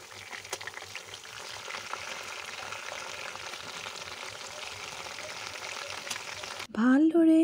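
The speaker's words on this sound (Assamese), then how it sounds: "গৰম হোৱাৰ পিছত চিকেনখিনি দি দিব। ফ্ৰাই কৰাৰ সময়ত কেৰাহীখনৰ জুই মিডিয়াম ফ্লেমত ৰাখিব।" Chicken fries in hot oil in a kadai over a medium flame, a continuous soft sizzle and crackle that ends abruptly with a short tonal sound at the close.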